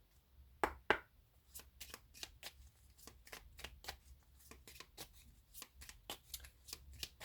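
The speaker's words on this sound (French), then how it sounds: "Je vais rajouter une carte tout de suite." Tarot cards shuffled and drawn by hand, a quiet close run of soft riffling flicks and taps in an uneven rhythm, with a couple of sharper snaps near the start.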